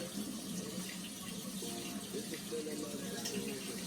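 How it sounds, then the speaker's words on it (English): Tap water runs steadily into a sink while kelp noodles are rinsed, a soft continuous splash with faint shifting behind it. "I'm just gonna rinse these real quick. Give a nice little rinse over here."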